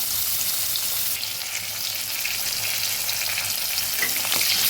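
Pieces of boal fish fry gently in hot oil for a Bengali fish curry, a steady close sizzle and crackle with light stirring and no talk.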